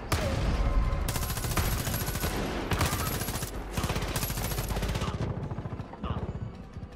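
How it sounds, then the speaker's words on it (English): Gunfire in the shooter game Far Cry 5 during a boss fight: dense, continuous automatic fire with rapid bursts and blasts layered together, loud and constant, tapering off near the end. "Shoot them! Shoot them all!"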